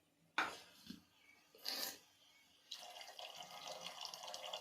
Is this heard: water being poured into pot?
yes